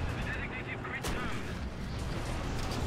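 A single tank cannon shot from War Thunder, heard through a sound mod: a sharp blast around the one-second mark that decays into rumbling, over steady engine noise.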